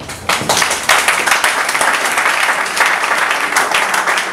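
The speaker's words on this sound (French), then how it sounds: "son Excellence Antoine Tshisekedi Tshilombo, avec vos acclamations" Conference audience applauding and cheering, a loud, dense burst of clapping that holds steady throughout with a brief lull near the start.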